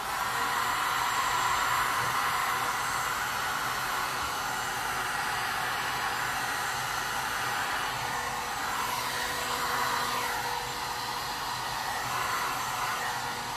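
A heat gun blows steadily over poured resin art, a continuous loud airy whoosh that holds unbroken for the whole stretch with no talking.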